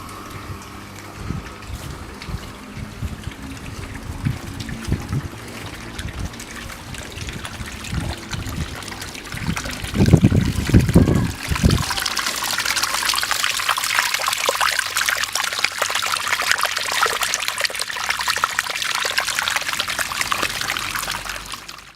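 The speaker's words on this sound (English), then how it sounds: "A hose is connected, and now I'm using the water that has been in this pool here for a little too long to water the garden" Water from an old backyard pool running through a garden hose onto a garden, a steady pouring trickle that grows into a louder, broader splashing stream partway through and continues without speech.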